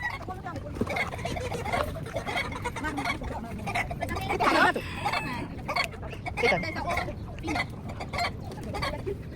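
Roosters crow and hens cluck over a steady, busy crowd murmur, with voices talking throughout in a noisy outdoor poultry market.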